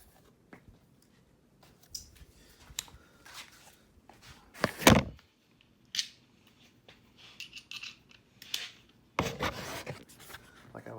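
A flathead screwdriver works at plastic window blind trim, giving scattered scraping, rubbing and clicking noises with a couple of louder sharp clacks, close by and otherwise quiet, with no talk.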